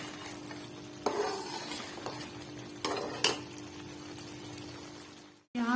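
Mutton korma sautés in a pan beneath a soft, steady sizzle, broken by several sharp scrapes and knocks of a spoon against the metal, then a short silence and a fresh burst of sound at the end.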